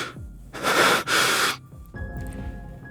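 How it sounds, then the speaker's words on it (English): Zayne's labored breathing in Love and Deepspace, after a painful injury: a close, strained wheezing inhale and exhale in two long rasping bursts, followed by quieter ragged breaths under a faint tone. "Zayne's labored breathing shows how intense the pain is"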